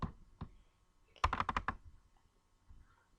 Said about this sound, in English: click anywhere on your canvas, and then just start typing